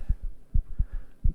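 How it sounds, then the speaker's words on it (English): A heartbeat effect in the turn-based video game Dawn of the Mexica thumps in deep doubled lub-dub pulses, three beats in close, steady rhythm, heard alone over a faint hum. "Just enjoy those heartbeats for a second."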